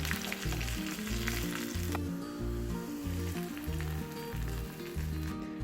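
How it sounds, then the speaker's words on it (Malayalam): Dried red chili, curry leaves and small shallots fry in hot oil, a steady close sizzle running alone throughout, with a low repeating rhythmic thump underneath. "ഒരു വറ്റൽമുളക് ഇച്ചിരി കറിവേപ്പില ഇതെല്ലാം ഒന്ന് നന്നായിട്ടൊന്ന് മൂത്തതിന് ശേഷം ചെറിയ ഉള്ളി ഒന്ന് ബ്രൗൺ നിറാവണേ"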